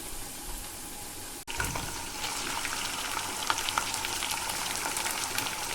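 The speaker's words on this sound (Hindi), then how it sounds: "अब मैं इसके अंदर गोश्त शामिल कर दूंगी।" Beef pieces frying with golden-browned onions in a pot for degi haleem, a steady loud sizzle throughout after a brief sharp drop near the start, with no talking.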